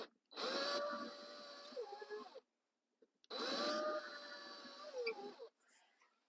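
A power drill with a 1/4 inch bit bores holes into a wall in two separate bursts of about two seconds each. It gives a steady whine that dips as the bit bites, with a quiet gap between the holes.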